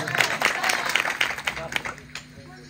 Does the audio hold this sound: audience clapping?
yes